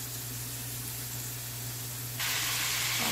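Fritters made from tinned mackerel frying in hot oil, a steady sizzling hiss that swells louder near the end as a fresh batch goes in, with no talking.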